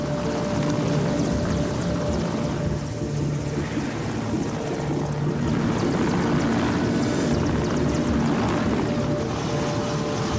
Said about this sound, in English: the only practical way of getting in or out is on the twice-weekly UN supply flight